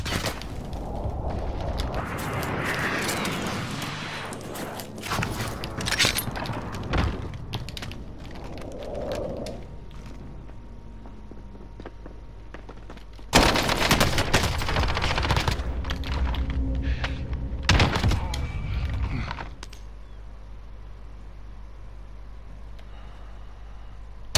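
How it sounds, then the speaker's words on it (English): An enemy precision airstrike in the Warzone video game hits with bursts of rapid gunfire and explosive impacts, heavy volleys flaring around the middle amid clicking noise and quieter stretches. "Enemy precision airstrike. Take cover."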